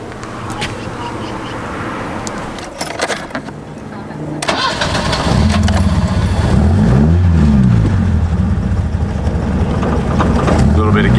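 A 1976 VW Golf engine cranks and fires up with a bit of throttle, then settles into a loud, steady running note that rises and falls slightly with the gas, while someone talks over it.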